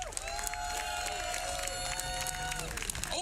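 A rally crowd for a Hands Off Assange event applauds and cheers, steady clapping and voices filling the space at moderate loudness, with a high sustained whistle or feedback tone running through it.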